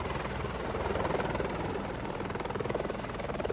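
A helicopter flying, its rapid rotor chop pulsing steadily and fairly loud over a broad engine whine, with no speech.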